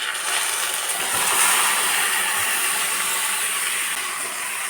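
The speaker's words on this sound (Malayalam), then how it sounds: "ഇനി ഇതിലേക്ക് നമ്മൾ നേരത്തെ മസാല പുരട്ടി വെച്ച ചിക്കൻ ചേർത്ത് കൊടുക്കാം." Marinated spicy chicken sizzles loudly in a pan with browned onions, a steady, dense hiss that holds evenly and close throughout.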